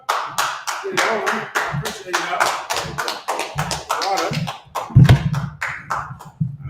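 An audience claps in the room at a live talk show, giving brisk, steady applause while a voice talks over it.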